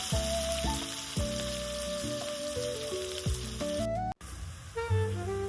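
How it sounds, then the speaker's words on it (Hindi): Chopped onions fry in hot oil in a pan for bhindi masala, giving a steady dense sizzle with stirring scrapes and brief clatters, close and continuous, with no talk. "और इसे प्याज को थोड़ी देर तक फ्राई करेंगे"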